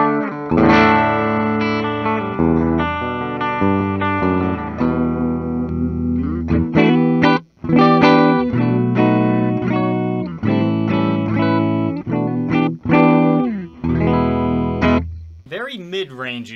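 Bridge humbucker of a 2001 Gibson USA Tony Iommi signature SG electric guitar, loud and up close, with chords and single notes ringing with sustain and a few short gaps between phrases.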